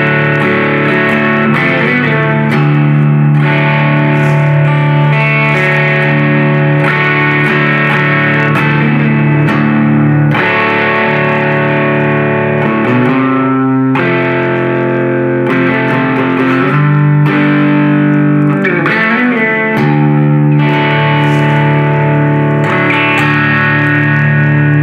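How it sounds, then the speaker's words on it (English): Distorted electric guitar in open D tuning playing bluesy sliding open chord forms in a Delta blues style, loud and continuous with sustained, gritty chords and no talking. "if you put a little bit of grit on the guitar tone, and you play some of those open sliding forms, you get a very bluesy type of sound"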